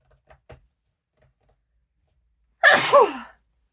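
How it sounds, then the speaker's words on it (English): A single loud, close sneeze bursts out after a few faint clicks and small handling noises, on a crochet podcast recorded indoors. "I'm gonna sneeze."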